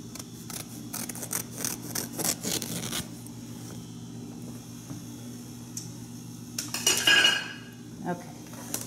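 Scissors cut fabric for an Easter wreath, with close snipping and rustling in bursts, a quiet pause in the middle, then another brief cluster of sharp cutting and handling sounds.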